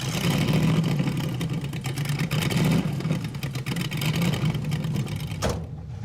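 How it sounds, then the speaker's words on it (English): Mazda car engine revving hard during a burnout attempt with chocked front wheels, a loud sustained roar that holds steady for several seconds before cutting off abruptly near the end. "I'm gonna chalk the front wheels and we'll try a burnout"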